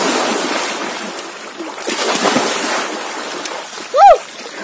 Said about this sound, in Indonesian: Ayo, kita mandi di sungai bersamaku.